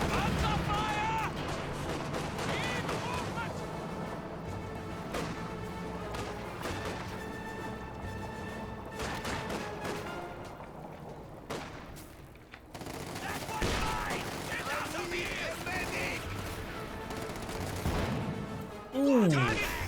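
Panzer tank cannon fire in Company of Heroes 2 booms amid continuous battlefield gunfire and explosions, loud and layered, with a voice speaking over the din.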